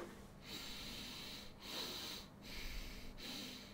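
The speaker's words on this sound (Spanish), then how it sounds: "escuchen mi respiración ahora" Slow, congested breaths drawn in and out through a blocked nose, about four wheezy cycles close to the ear with no talking.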